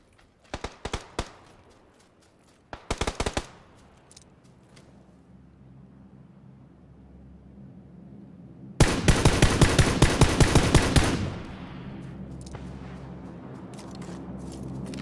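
Machine gun fire in a video game rattles out in short bursts early on, then a long, loud sustained volley follows after a quiet stretch, with background hum continuing afterward.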